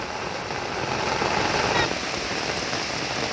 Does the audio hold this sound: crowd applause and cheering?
no